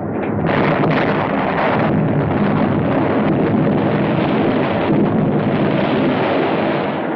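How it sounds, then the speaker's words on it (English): Heavy naval guns of the French battleship Jean Bart with cruisers, destroyers and gunboats firing, a dense continuous roar of rumbling bombardment, loud and unbroken throughout. "the heavy guns of the French battleship Jean Bart and several cruisers, destroyers, and gunboats put out a devastating fire"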